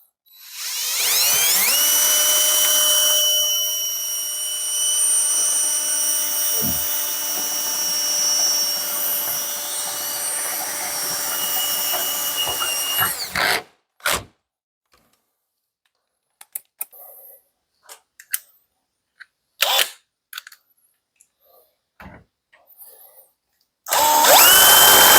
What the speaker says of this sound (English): Just go into a little bit more powerful of a drill